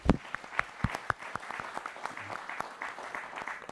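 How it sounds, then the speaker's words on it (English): An audience applauds at a 2017 quiz bowl quarter-final, a steady patter of clapping hands with distinct sharp claps standing out, continuous for several seconds. "Let's give them a round of applause."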